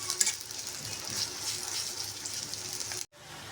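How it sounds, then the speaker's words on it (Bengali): Chopped onions frying in a pan for a small river fish curry, a steady close hiss of oil with occasional stirring, ending abruptly. "পেঁয়াজটা আমি ভালো করে ভেজে নিই নরম করে"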